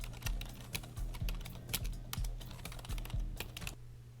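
Fingers typing on a computer keyboard at close range, a steady patter of key clicks with irregular spacing and occasional heavier strokes, over a low background hum.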